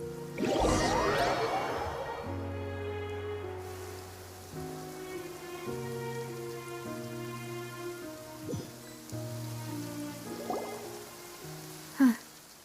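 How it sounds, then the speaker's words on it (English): Steady rain falls in the game Gens, a soft, continuous patter beneath sustained musical tones, with no one speaking. "It's been raining non-stop for a few days now."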